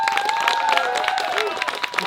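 Wedding guests clap for a couple after their vows, a brisk round of applause close by, with voices talking and calling out over it.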